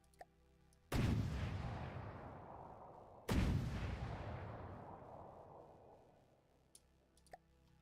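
Two heavy cannon shots boom in the video game From the Depths, each a sudden blast trailing off in a long rumbling decay, a couple of seconds apart, followed by faint clicks.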